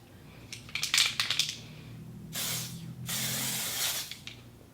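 Bursts of makeup setting spray sputter unevenly from the bottle, first a few crackly spurts, then two longer steady hissing sprays close by, with no talking.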